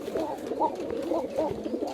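Fancy high-flying pigeons at a loft coo in soft, repeated, rolling phrases, close and moderately loud, with no speech over them.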